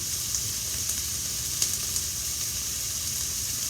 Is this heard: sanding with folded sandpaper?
no